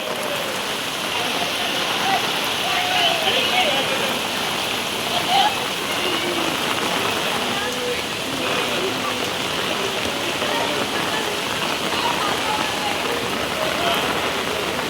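Heavy monsoon rain and flowing floodwater in Nalasopara make a steady, loud wash of splashing and rushing water, with faint voices mixed in.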